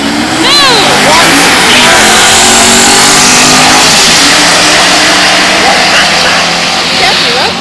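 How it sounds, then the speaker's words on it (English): A Corvette Z06 drag racing at Bandimere Speedway, a loud, sustained engine roar at full throttle with a rising whine, heard from the stands alongside excited spectator voices. "He's keeping up with a Corvette Z06"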